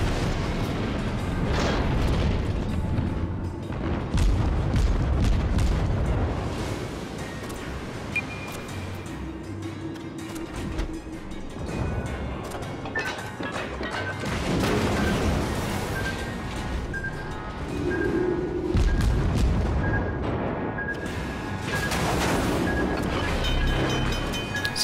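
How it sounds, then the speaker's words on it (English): Naval gunfire and shell explosions in World of Warships, with a tier 4 IJN destroyer under fire from an enemy cruiser: repeated deep booms and rolling blasts over a constant sea-like roar, loud and continuous throughout. "Since the enemy cruiser used high explosive shells, we catched fire and had to use the repair kit."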